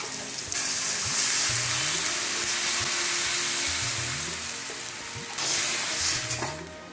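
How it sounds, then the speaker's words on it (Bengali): Water is poured onto fried potato and pumpkin in a hot pan, producing a loud, sustained hissing sizzle with bubbling, easing briefly in the middle before flaring again near the end. "এবার আমি জল দিয়ে দিচ্ছি।"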